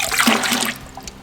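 Coolant flushing out of a 1990 Nissan 300ZX Turbo, a close rushing pour of liquid that runs strongly for most of a second, then thins to a faint trickle and a few drips.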